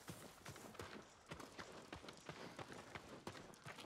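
Steady clip-clop of horse hooves at a run in the video game Ghost of Tsushima, a rhythmic, fairly close galloping beat that carries on throughout without talk.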